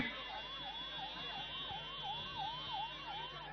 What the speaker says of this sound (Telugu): అంబులెన్స్ వస్తుంది అంబులెన్స్ కు దారి ఇవ్వాల్సిందిగా కోరుతా ఉన్నాము